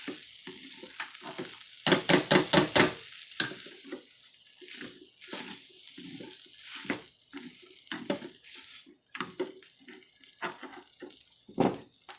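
Refried beans being mixed and mashed in a pan, a cluster of rapid scraping strokes early on followed by intermittent mashing pushes and clicks over a soft sizzle.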